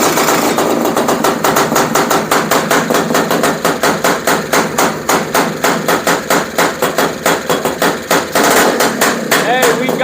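A two-stroke FL350 engine fires up and runs loud and close, its rapid, sharp popping exhaust beats continuing steadily throughout with no pause.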